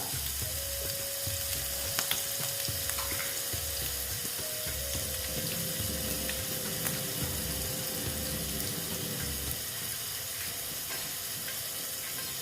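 Potatoes with ginger added frying in a pan, a steady hiss and crackle of hot oil continuing throughout, with occasional faint clinks.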